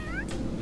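A short meow from a Sims 3 cat, a single rising cry up front over busy game background sound.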